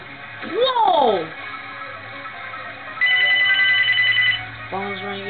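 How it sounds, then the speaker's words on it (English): A telephone rings during a Mario Kart online match, with a steady electronic ring tone lasting over a second, heard between swooping game sound effects and other background noise. "Phone's ringing."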